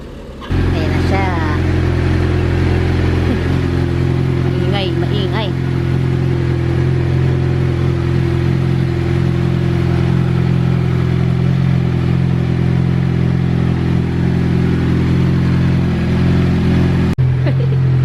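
A Suzuki motorbike on a ride with two aboard: a loud, close engine drones steadily for the whole stretch, rising slightly in pitch partway through and cutting off sharply at the end.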